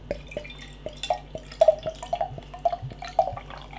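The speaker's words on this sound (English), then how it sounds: "I've given it quite a rigorous pour, and it's created a one finger tan coloured head." Harpagan Buzdygan Rozkoszy Caribbean Imperial Stout poured vigorously into a glass, a close run of wet glugs, splashes and drips over a few seconds, with no talking.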